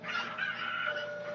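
A chicken from the video game Zelda: Ocarina of Time Master Quest, in Kakariko Village, gives a brief, steady, bright clucking squawk that is loud and close, alone with no talk over it.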